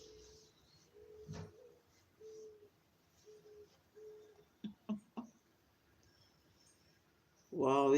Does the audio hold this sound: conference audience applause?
no